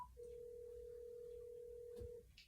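A single steady ringback tone plays on a phone line while calling someone back, holding continuously for about two seconds over a faint hiss, with a brief click near the end.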